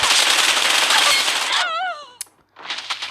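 Video game gunfire bursts out in a loud, dense rapid rattle, then gives way to a warbling tone, a sharp click, a brief near-silence, and a return of the busy noise.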